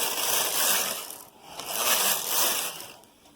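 Knitting machine carriage sweeping across rows of yarn, a swelling mechanical rush with clicking and rubbing texture, three passes rising and falling in loudness, fairly close, no talk.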